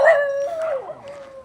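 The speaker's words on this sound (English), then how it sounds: "The dog gangs are sounding off." Street dogs near a beach howl in a long, wavering tonal cry that rises and falls, with fainter yips and howls from other dogs layered behind it, loud and fairly close with no talk.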